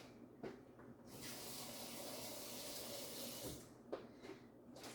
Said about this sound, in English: Okay, you add a little bit of water.